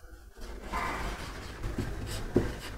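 Chalk or marker writing on a board during a ratio lesson: a soft continuous scratching and scraping stroke lasting a couple of seconds, fairly close, with no talk over it.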